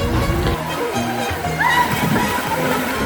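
Children bathing in a clear stream, sloshing and splashing water close by in uneven bursts, with voices and background talk mixed over the churning water.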